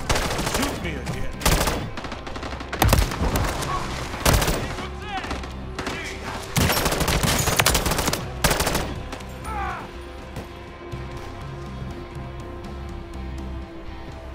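Rapid bursts of gunfire from the Call of Duty MWZ zombies mode, loud automatic volleys and single shots cutting in and out over about fourteen seconds, with players talking over the shooting.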